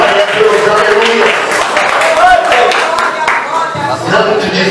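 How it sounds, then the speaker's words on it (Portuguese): A church congregation claps through an evening service anniversary celebration, a steady wash of many hands filling the room beneath a voice. "E as tuas palmas exaltam o Senhor nesta noite."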